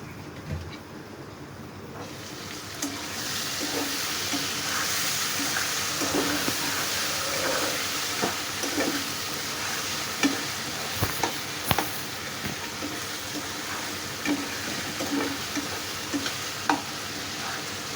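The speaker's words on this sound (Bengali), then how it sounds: "তেল আর মশলার সাথে ভাজি করে নিব আমি এখানে আলুগুলা" Potatoes fry in oil with spices, a steady sizzle under repeated scraping and stirring clicks of a spoon against the pan.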